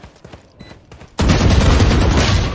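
Gunfire in Valorant: a few faint game sounds, then a sudden loud burst of rapid automatic shots that continues without a break to the end, close and harsh.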